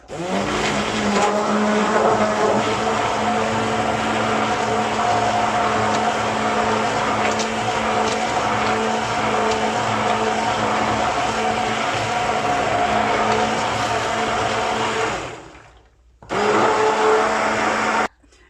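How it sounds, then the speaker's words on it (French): An immersion blender mixes baghrir batter made with warm water, running as a steady, loud motor whir for about fifteen seconds before briefly cutting out and then starting again for a short final burst. "ce qu'il me reste à faire, c'est prendre mon mixeur plongeur et donc de mixer le tout."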